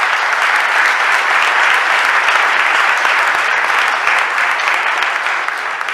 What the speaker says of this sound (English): I just want to give her a round of applause in her absence.